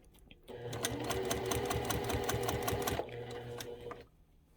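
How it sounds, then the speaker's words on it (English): A sewing machine stitching improv quilt curves, a close, rapid mechanical chatter running steadily for a few seconds before slowing and stopping, with quiet hum around it. "And you'll notice my bouts of sewing get shorter the smaller the curve is."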